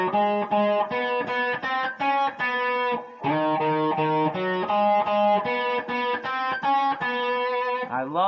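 Distorted electric guitar plays a blues lick, a quick rhythmic string of picked notes with a short pause partway, ending on a bent note, clear and alone.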